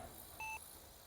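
Short electronic timer beep sounding once on expiry, a single clear tone lasting a fraction of a second over a low steady room hum.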